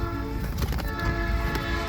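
A passing train sounds a loud, sustained horn with clattering rail noise beneath it, close by and steady throughout the short stretch.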